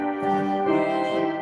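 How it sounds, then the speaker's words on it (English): Organ reed stops with the saxophone stop added give one brief held chord, buzzy and reedy, steady and fairly loud, with no voices. "If you add the saxophone together, it comes like this."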